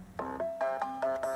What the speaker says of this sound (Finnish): Puhelin soi. Missä se on?